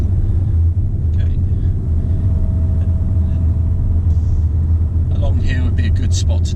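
A car engine drone labours steadily in a low gear while climbing a hill on a suburban road, a constant low rumble running throughout with faint traffic noise on top.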